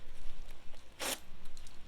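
A beekeeping suit's zipper gives one short, bright zip about halfway through. It sits close over a faint background of rustling.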